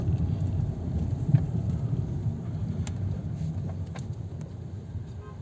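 A VW Golf 7 with a DSG-7 dual-clutch gearbox drives on a test road, giving a steady, low engine and road rumble with wind noise and a few faint ticks, with no talking.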